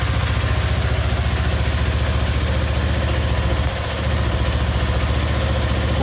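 A cold motorcycle engine idles steadily to warm its oil before an oil change, a continuous close, even rumble with a regular low pulse and a brief dip near the end.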